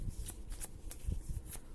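A deck of Pokemon trading cards is shuffled by hand in quick, soft riffling bursts, several short flurries close up and fairly quiet, with no talk.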